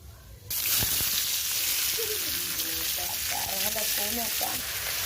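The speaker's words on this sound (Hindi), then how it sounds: "अब मैं इसमें डाला हूँ तेल गरम किया, उसमें डाला जीरा और तेज पत्ता, अब प्याज डाल रहा हूँ" Onion tipped into hot oil already seasoned with cumin seeds and bay leaf, bursting into a loud, steady sizzle after a brief quieter start, with occasional stirring scrapes and bubbling pops throughout.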